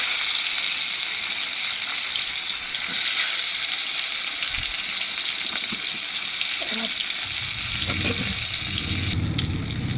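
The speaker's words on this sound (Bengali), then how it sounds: "এবার আমি এর মধ্যে দিয়ে দেব কিছুটা পেঁয়াজ কুচি" Chopped onion hitting a hot pan for a chicken curry gives a loud, steady sizzle close by, continuous over the whole stretch, with some stirring and clatter toward the end and no voices.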